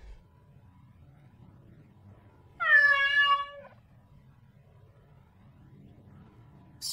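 A single clear cat meow, about a second long, stands out over a quiet low background hum with no talking.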